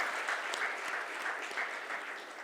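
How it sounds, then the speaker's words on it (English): Soft, steady applause from an audience at a hospital welcome event for actress Gul Panag, a dense wash of clapping heard at a distance, quiet and even throughout. "A big round of applause to her."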